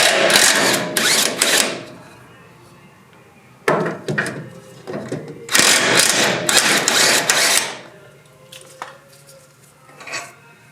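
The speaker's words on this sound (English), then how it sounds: "I'm going to use my impact gun to take those off." Impact gun zipping 19 mm nuts off the left side of a Toyota Hilux Surf during rack and pinion bushing work, several loud broadband rattling bursts of a second or two each with short pauses between them, close by.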